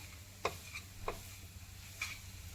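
Modak filling being stirred and lightly roasted in a pan, with a faint steady sizzle and a few scattered scraping clicks of the spoon, quiet and close.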